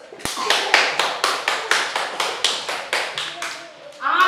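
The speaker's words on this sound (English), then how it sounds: "Clap for yourselves." Nursery class children clap together in a steady, rhythmic unison, about fifteen sharp claps in even succession, loud and close, ending as a voice begins speaking.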